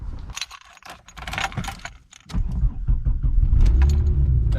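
Keys jangle and rattle, then a car engine cranks and catches, settling into a loud, steady idle close by.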